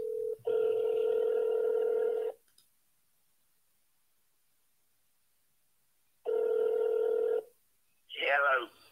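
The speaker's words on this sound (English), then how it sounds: "I'm gonna dial back one more time." A telephone ringback tone sounds in two long buzzing rings separated by a few seconds of silence, followed by a voice answering on the line.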